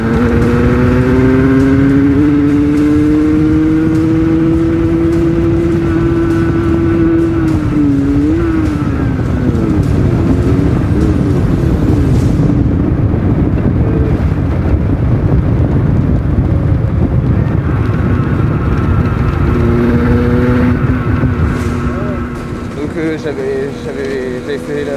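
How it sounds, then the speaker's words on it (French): A motorcycle with a carburetor problem idles and revs up close, its engine tone rising, dipping and wavering unevenly, with wind buffeting the microphone and a drop in level near the end. "ma moto elle avait un petit problème, donc je vais vous mettre un extrait"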